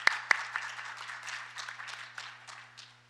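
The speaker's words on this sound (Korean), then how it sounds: "역시 박수 부탁드리겠습니다." Light applause from a conference audience at an international patent court event, a couple of sharp claps at the start followed by quieter, thinning clapping that fades out.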